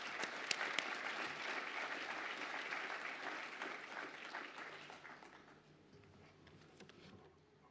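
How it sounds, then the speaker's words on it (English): Sustained applause fills a university commencement hall, steady and dense for several seconds, then gradually thinning and fading toward quiet. "Let's give a round of applause to the graduate who have just been presented"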